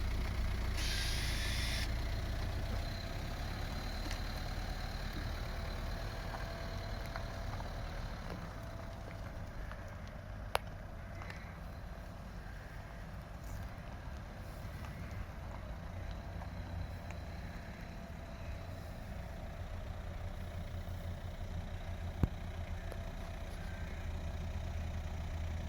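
A vehicle engine hums steadily throughout while moving slowly on a closed driving test lot for a BE trailer licence, a low continuous drone with a brief hiss at the start and faint clicks.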